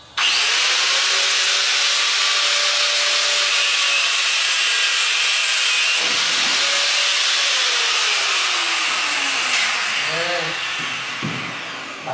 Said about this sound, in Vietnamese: cưa cái phần khớp nối chữ T ra cho anh em xem này.